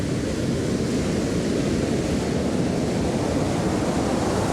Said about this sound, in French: il y a des vagues de fou ici